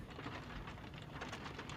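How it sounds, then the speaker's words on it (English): Steady rain falls and patters with a dense, even hiss, faint and continuous with no other sounds. "I hear the rain."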